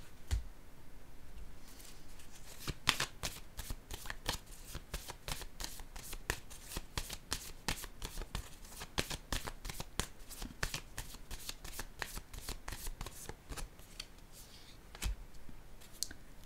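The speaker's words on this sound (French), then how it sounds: "Je vais piger une autre carte" Tarot cards being shuffled by hand: a long run of crisp, rapid riffling clicks and flutters, close and steady, with brief pauses between bursts and no one speaking.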